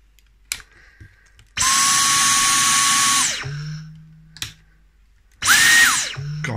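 A repaired Dyson V10 cordless vacuum whines up to a loud, high motor roar for about two seconds, winds down, then starts again briefly, heard close with clicks and quiet gaps between runs.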